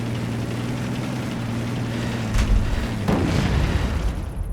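Blasts from the Superb Warfare mod in Minecraft, set off in single player, break over a steady low rumble: two dull booms land a little under a second apart, the second heavier with a short crackling tail.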